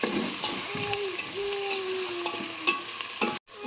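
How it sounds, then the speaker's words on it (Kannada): Tomatoes fry with salt in a pan, giving a steady low sizzle with occasional stirring scrapes, close and moderately quiet, with no voices. "ಸ್ವಲ್ಪ ಟೊಮೆಟೊ ಫ್ರೈ ಆಗಿ"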